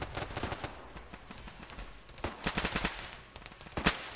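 Arma 3 gunfire cracks out in short automatic bursts and single shots, loud and close, clustered in rapid groups with quieter gaps between them.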